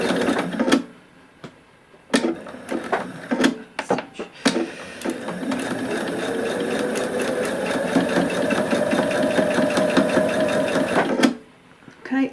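Sewing machine stitching a fabric face mask, running in quick bursts and then a long steady whir as it goes backwards and forwards over a corner to reinforce it, fairly close and loud with no talking.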